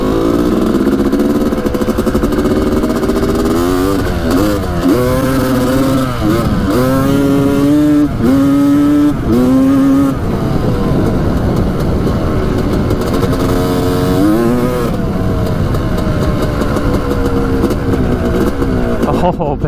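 A 1985 Honda CR250 two-stroke dirt bike revs hard again and again, with sharp rising and falling surges over a loud idle, heard up close with voices at times.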